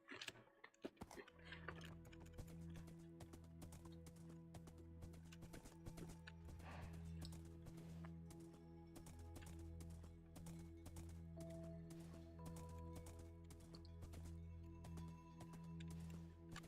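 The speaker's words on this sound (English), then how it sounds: "Wait, let's take the horse. It'll be a lot faster if we take Frederick." Horse hooves clip-clop steadily while riding in the Minecraft video game, a light, even patter of clicks heard over sustained background music tones.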